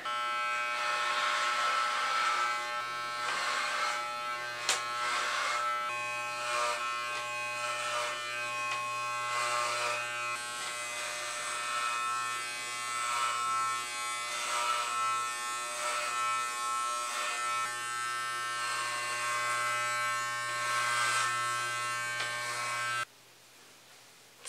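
Electric hair clippers shave a head in a long, close, continuous buzz that shifts slightly in tone as the blades move across the scalp, with no talk, before the buzz stops near the end.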